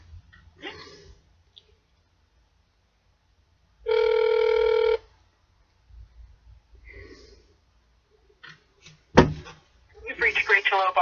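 A single telephone ring tone rings steadily for about a second on a call being transferred to voicemail, with faint clicks and line noise around it, and a voice starts near the end.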